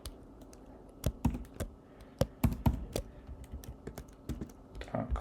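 Fingers typing on a computer keyboard while entering a password into code, a close, irregular patter of key clicks with some louder taps bunched together.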